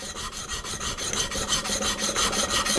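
A traditional wooden-bodied spokeshave blade is honed at its bevel on a sharpening stone, close rhythmic rasping strokes repeating evenly about every quarter second, with no voices.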